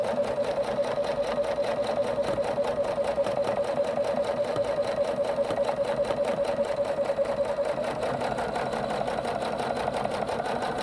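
A sewing machine runs a simple straight stitch on fabric, humming with a fast, steady mechanical patter at close range. It keeps an even rhythm throughout, with no talking.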